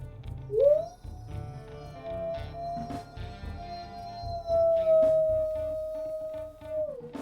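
A single wolf howl from the WolfQuest game: a brief rising yelp that settles into a long, steady, fairly clear tone before dropping off, heard alone against quiet background sound.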